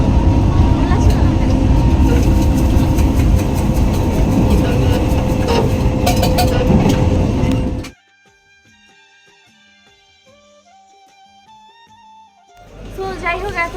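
Inside a moving passenger train, a loud steady rumble of wheels and carriage noise fills the first eight seconds, then drops away to a quiet stretch with a faint tonal melody before the rolling noise returns.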